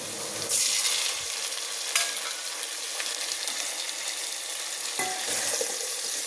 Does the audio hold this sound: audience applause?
no